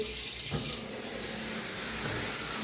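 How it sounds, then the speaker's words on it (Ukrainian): Water from a shower head sprays and splashes steadily onto a potted peace lily, a continuous hissing patter with a brief dip partway through, close and fairly loud with no talking. "Поливаю душем ось таким, але не по квітам."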